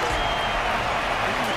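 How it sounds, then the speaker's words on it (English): Steady applause and crowd noise from an arena audience at a fighting match in the video game Honkai: Star Rail, continuous and dense, heard briefly with a voice speaking over it. "Their constant applause is a salute to this resilient Belabogian fighter."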